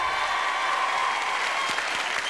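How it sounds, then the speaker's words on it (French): A studio audience on a French television show claps steadily for Colette, a phone-in winner, in a dense, even burst of applause with no speech. "applaudissements pour elle"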